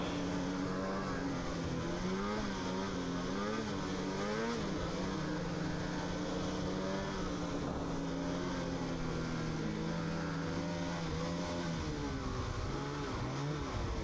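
Ski-Doo Summit 850 snowmobiles climbing a mountain, a steady droning engine whine that rises and falls in pitch as the throttle changes, continuous and fairly close throughout.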